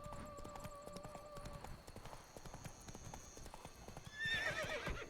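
A horse gallops in The Witcher 3: Blood and Wine with quick, rhythmic clip-clop hoofbeats throughout, closing with a loud whinny over the hooves.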